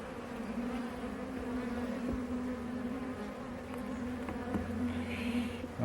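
Honey bees swarm around a hive frame during a beekeeper's inspection, giving a steady, dense buzzing hum that stays loud and close throughout, with no talk over it.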